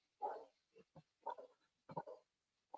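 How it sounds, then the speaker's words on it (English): A dog barks several times in short, sharp bursts with brief pauses between, fairly close and moderately loud, with no talking. "Can you guys hear my dog barking?"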